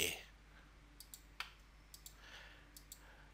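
Mouse clicks confirming OK in SolidWorks Electrical software, a few quiet, sharp clicks spaced irregularly over a low background hum.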